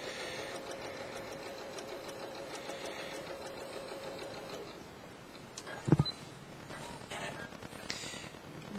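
A sewing machine fitted with an open toe embroidery foot runs steadily while top stitching a row about a quarter inch from a seam, a soft continuous whir that stops near the end with a brief clunk and some handling noise.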